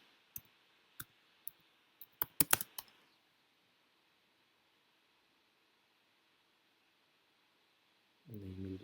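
Several sharp, separate keystrokes tapped on a computer keyboard at close range, coming in an uneven burst over a few seconds. Then a pause, and a low hum comes in at the end.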